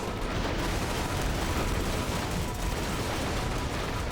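Gun turrets firing in a video game, a dense, continuous barrage of rapid shots and rumbling blasts that stays loud and unbroken throughout.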